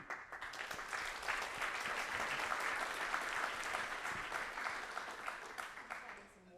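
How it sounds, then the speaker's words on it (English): A lecture-series audience gives a round of applause for a guest speaker named Sam. The applause is quiet and distant, swelling into dense clapping then tapering off toward the end. "A round of applause for Sam."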